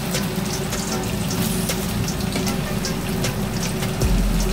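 Cubes of paneer frying gently in hot oil in a kadai over medium heat: a steady, dense hiss and sizzle that keeps up without pause, close and fairly loud, with faint ticks and crackles scattered across it.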